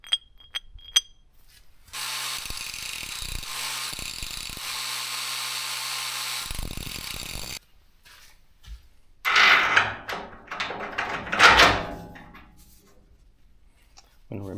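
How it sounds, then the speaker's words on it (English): A handheld grinder works on a bolt for a new shipping container lock, giving a steady, loud grinding roar for about five seconds, then rougher, uneven bursts of grinding after a brief pause. "I have a grinder, so I think I'm just going to have to grind this bolt a little bit"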